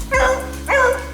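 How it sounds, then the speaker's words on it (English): A dog, named Flower, barks twice up close, each bark loud and sharp with a whiny edge, over a low steady hum. "What are you barking at, dog?"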